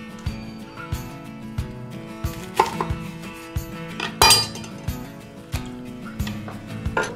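A knife cuts a pomegranate into quarters, with a few sharp taps and thuds on a board rising over steady background music.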